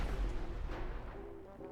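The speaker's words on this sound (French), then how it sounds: "C'était quoi cette explosion là?" A booming explosion in a GTA roleplay game, a heavy low rumble that hits loud at the start and then rolls off into a sustained decaying roar.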